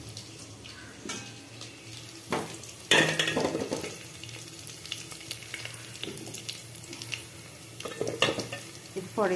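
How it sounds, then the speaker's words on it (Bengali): Potatoes and onions frying in oil, a continuous sizzle broken by clattering stirs and pan knocks, with a brief spoken word partway through. "এখানে পরিমাণ মতো তেল, আলু, পেঁয়াজ ভেজে নেওয়া হচ্ছে।"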